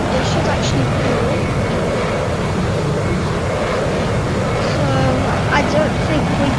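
A steady airliner engine roar from an A330 cruising in the Roblox flight game PTFS, a broad continuous wash of noise lasting throughout.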